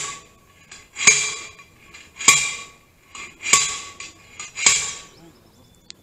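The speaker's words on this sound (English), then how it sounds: "Go ahead and start hammering." A hammer driving a wooden garden post into the ground strikes four times at a steady pace, each blow a loud, sharp metallic crack with a short ringing tail, with quiet outdoor background between hits.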